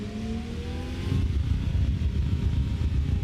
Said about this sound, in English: that's quite an aggressive limiter sound there